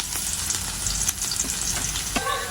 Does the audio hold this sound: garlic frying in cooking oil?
yes